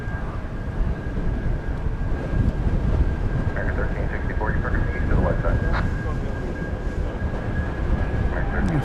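Airliner arriving at DFW Airport after a flight from Helsinki, a continuous low rumbling roar with a faint steady whine, distant, with brief clicks and rattles on top.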